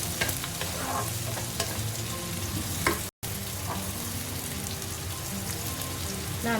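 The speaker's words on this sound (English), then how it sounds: "Now we can add the capsicum." Capsicum stir-fries in a hot pan for chilli chicken, with a continuous crackling sizzle and light scraping stirs throughout, briefly cut off midway.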